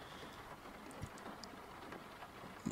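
Steady, faint rain patters and hisses against a car windshield, with occasional louder drops standing out over the constant wash.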